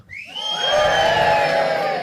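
Comedy club audience cheering and whooping together, a loud swelling crowd roar with high voices rising over it, sustained for about two seconds.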